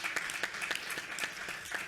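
Audience applause at a policy summit: a full, sustained round of clapping from a seated crowd in a hall, dense and even throughout with no voices over it.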